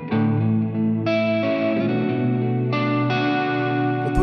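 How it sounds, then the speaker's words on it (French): Chorus modulation on an electric guitar through a Universal Audio UAFX pedal, with sustained chords swirling and shimmering steadily and loudly throughout, alone without talk. "Vous entendez le chorus ?"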